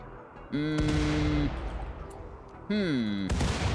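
Mortar fire booms in the video game Rimworld, with two heavy blasts separated by a rumbling pause and bright descending whistling tones over them, all at moderate loudness with no talking.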